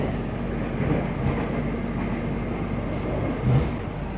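A commuter train bound for Tangerang passes by, heard from aboard an airport rail link train as a steady, broad rumbling roar that swells slightly near the end.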